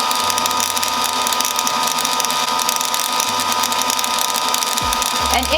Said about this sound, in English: And it's gonna wind until it starts to hit this little stopper, at which point you'll hear it stop spinning